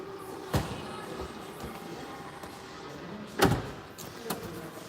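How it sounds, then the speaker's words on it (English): The back door of a Volvo EX90 closes with a couple of sharp thuds amid a quiet hum and faint mechanical sounds, with no talking. "we can then proceed to closing the back door"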